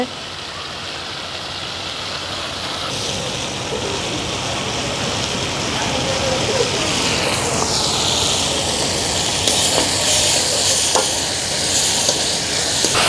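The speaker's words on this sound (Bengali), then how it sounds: "মশলা কষানো শেষ, এখন শুটকি ঢেলে দেওয়া হচ্ছে" Dried fish tipped into hot oil with cooked-down spices crackles and sizzles steadily and loudly throughout, a dense, continuous frying hiss close to the pan.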